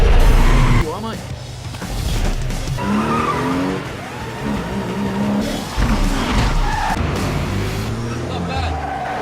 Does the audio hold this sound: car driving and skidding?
yes